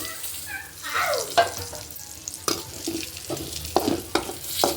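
Fish fry in a pan of hot oil with a little turmeric and chilli, and a spatula stirs and scrapes through them, sharp scraping strokes over a constant close sizzle.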